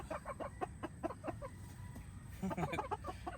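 Chickens cluck in a rapid run of short, close clucks, a pause, then another burst of clucking in a backyard coop in the Philippines.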